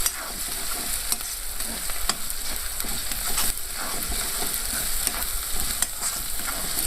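Scrambled shark fish puttu fries in a pan with a steady, soft sizzle, broken by regular scraping clicks of a spoon stirring it, close and moderately quiet with no talking.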